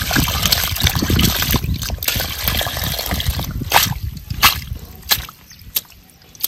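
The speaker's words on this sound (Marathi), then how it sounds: "आता ह्यातलं पाणी सगळं मी ओतून देते" Water poured out of a bowl of freshly washed fish, a splashing trickle that starts steady, then breaks into a few separate spills and drips as it thins out.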